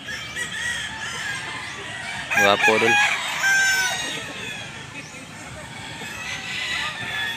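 Bullstag gamefowl roosters crow at a farm, one loud nearby crow rising in the middle over steady clucking and distant crowing, with someone talking throughout.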